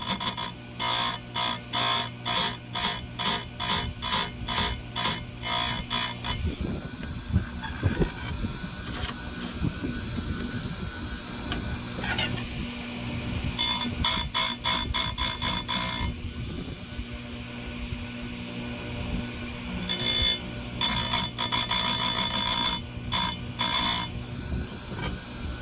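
An Oregon grinder sharpens a chainsaw chain in a series of short, evenly spaced grinding bursts, one per tooth. The bursts pause through a quieter stretch of motor hum and clatter, then resume in two more runs, all close by.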